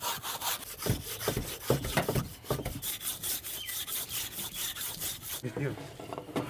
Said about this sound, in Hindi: आरी के साथ अब कुल्फ़ी जो है ये काट लेंगे।